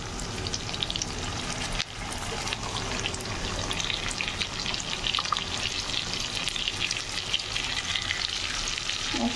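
Dried fish frying with ground spices in a pan, a steady dense sizzle running throughout, loud and close with faint stirring scrapes and no voices.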